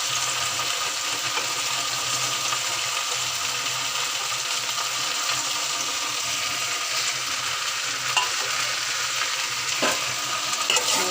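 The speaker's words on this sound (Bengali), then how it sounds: "তেল দিয়ে দিছি, তেল গরম হয়ে গেছে। আমি দিয়ে দেবো পেঁয়াজ।" Onion fries in hot oil with a loud, continuous close-up sizzle and occasional scraping or clicking from stirring, no talking.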